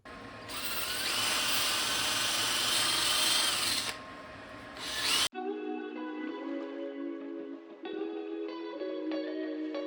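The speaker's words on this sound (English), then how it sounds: "I think what I'm gonna do is go ahead and tack the mounts in place" MIG welding tacks the mounts onto a racing mower frame: a loud, steady broadband crackle fills the first four seconds and resumes briefly near five, then stops abruptly, followed by music.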